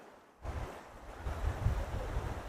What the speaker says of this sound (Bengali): একটা ঝোড়ার পাশ দিয়ে আমরা যাচ্ছি